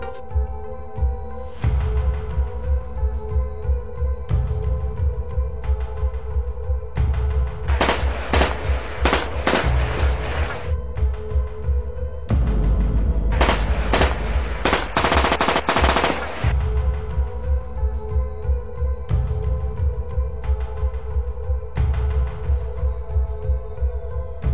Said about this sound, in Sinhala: නාදුරන පුද්ගලයින් දෙදෙනෙකු යතුරුපැදියකින් පැමිණ ස්වයංක්‍රීය ගිනිඅවියකින් වෙඩිතැබීම සිදු කර පලා ගියේ.